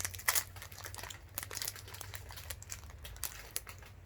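A snack wrapper from an Egyptian snack box being handled and torn open, with close, quiet crinkling and rustling plastic in short irregular bursts, no talking.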